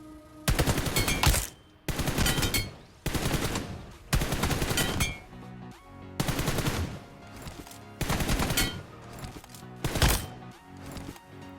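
Gunfire from shooting practice in the mobile battle-royale game PUBG Mobile, six loud sustained bursts of automatic fire separated by short pauses, alone without talk.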